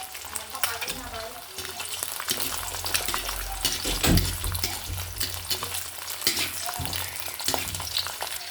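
Eggs frying sunny side up in a pan, a steady loud sizzle running throughout with scraping, stirring clatter and a brief bubbling burst partway through, no one talking.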